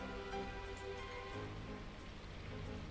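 Steady rain falls through the leaves of trees in the visual novel Symphonic Rain, a soft continuous hiss of dense droplets at low level, even and unbroken with no voices.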